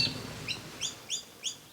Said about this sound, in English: don't those birds sound fantastic?